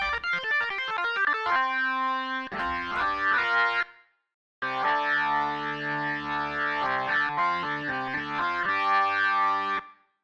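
An IK Multimedia Hammond organ software instrument plays chords and a melody with a dry, slightly driven tone, pausing briefly partway through before continuing.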